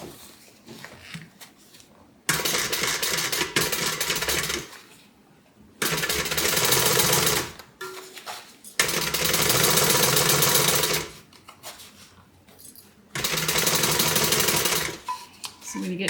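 Sewing machine stitching a seam on a multi-compartment tote bag, running in four long bursts of fast, even mechanical whirring, with quiet pauses between runs and no speech.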